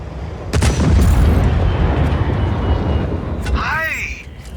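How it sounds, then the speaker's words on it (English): Explosions and gunfire ring out during an armored train battle in the Just Cause 4 video game, a loud sustained rumble of blasts with sharp bursts, while speech and a whooshing sweep rise near the end. "I trust my design, but the explosion, the gunfire, it's unnerving."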